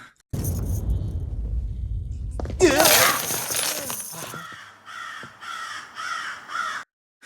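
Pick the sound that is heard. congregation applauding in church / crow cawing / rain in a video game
crow cawing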